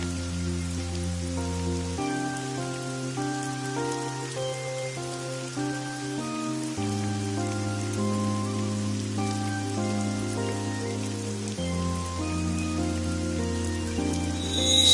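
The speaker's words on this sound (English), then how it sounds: "It's raining." Steady rain falls in a video game, a continuous soft hiss running beneath sustained, chord-like background music throughout.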